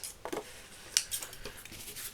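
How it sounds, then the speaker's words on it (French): Scissors snip and trim the excess edges of a handmade Christmas card, giving a few quick, close, crisp cuts with light paper rustling between them. "On repasse ici un petit coup de ciseaux, c'est pas gênant."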